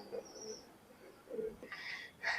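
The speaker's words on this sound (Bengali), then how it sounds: "এখানে দুইটা কবুতর নিয়ে আসা হয়েছে" A pair of imported pigeons coo softly close by, a few short quiet calls with brief chirpy notes in a hushed room.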